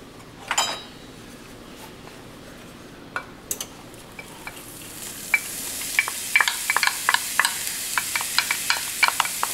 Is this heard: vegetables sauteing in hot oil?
yes